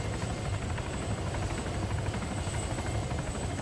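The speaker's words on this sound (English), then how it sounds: "it's up to you if you want to send a unit to a landed helicopter." A helicopter in the video game Arma 3 thrums steadily at a moderate distance, a continuous rotor and engine drone with no voices over it.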